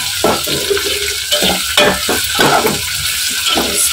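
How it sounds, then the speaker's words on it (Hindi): Tomatoes with salt stirred in a frying pan, a series of short scraping, sizzling strokes in an uneven rhythm, close and fairly loud with no voice over it. "स्टेयर करेंगे और उसको"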